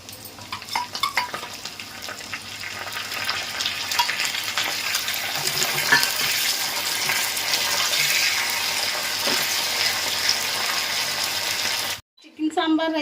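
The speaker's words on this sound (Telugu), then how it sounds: "తాలింపులండి కరివేపాకు, ఆవాలు, జీలకర్ర, వెల్లుల్లిపాయలండి," Curry leaves, mustard seeds, cumin and garlic frying in oil for a tempering, giving a loud, steady close-up sizzle with crackles and stirring that cuts off sharply near the end.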